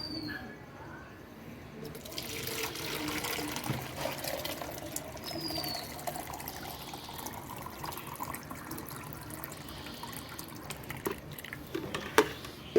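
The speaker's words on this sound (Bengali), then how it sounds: "দেখো এবার আমরা এটা করব কি, এর মধ্যে কিন্তু সুন্দর করে কিন্তু ছেঁকে নেব।" Soaked liquid plant food is strained through a sieve, giving a steady close pouring and trickling of water with drips, while a voice talks faintly over it.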